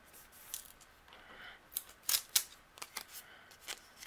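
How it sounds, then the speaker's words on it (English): Scissors trimming the edges of a paper birthday card, heard close up as a few crisp snips with short pauses between cuts, fairly quiet and with no voices. "And then I will trim the left and the right."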